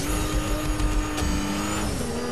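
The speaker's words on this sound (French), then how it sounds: "je peux faire un boost." Futuristic car in Fortnite's creative mode kicking in a boost: a loud, steady race-car engine whine that shifts pitch near the end, continuous and close, with no voices.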